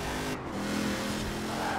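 A Rossion Q1 mid-engine, rear-wheel-drive sports car accelerates in Forza Horizon 4, its engine a loud, continuous close-up roar that holds steady over the short stretch.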